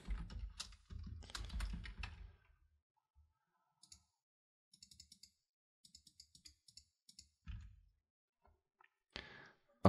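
Code typed on a computer keyboard, with close key clicks arriving in quick bursts, sparse isolated taps and brief pauses, heard alone in a quiet room.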